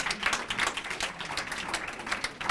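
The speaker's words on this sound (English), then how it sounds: "let's just give a round of applause for James Baldwin" An audience applauds for James Baldwin at a Black queer history event, a dense, lively burst of many hands clapping at close range, steady and sustained without any talking.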